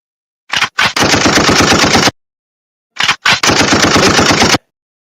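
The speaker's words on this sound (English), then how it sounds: "Gunshot." Two loud, close bursts of machine-gun fire, each opening with a couple of single shots and then a rapid, sustained rattle of about a second, separated by silence.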